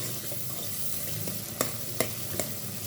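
Onions fry in a pan for a bitter gourd meat curry, a steady, close sizzle throughout, broken by a few sharp clicks of a stirring spoon against the pan near the end.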